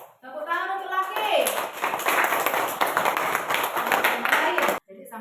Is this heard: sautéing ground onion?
no